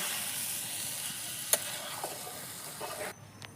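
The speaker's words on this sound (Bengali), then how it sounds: "এবার আমি আগে থেকে সেদ্ধ করে রাখা মোচাগুলোকে দিয়ে দিলাম এটাকে আমি এবার ভালোভাবে মিশিয়ে নেব" Boiled banana flower stirred into a hot pan over a wood-fired clay stove, a soft continuous sizzle with a sharp utensil tap and a few brief scrapes before the hiss drops away near the end.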